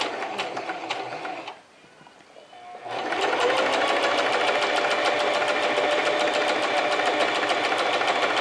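A sewing machine stitching a double top stitch seam, running steadily, pausing briefly, then restarting at a fast even whir that continues to the end.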